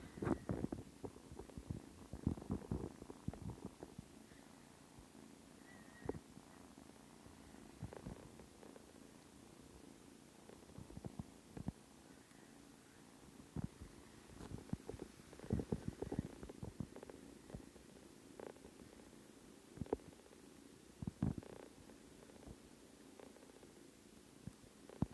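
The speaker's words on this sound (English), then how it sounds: "I'm going to be quiet for just a minute so you can listen to them purr." Kittens purring close up in a quiet room, a soft continuous rumbling purr broken by small rustles and clicks, faint and without talk.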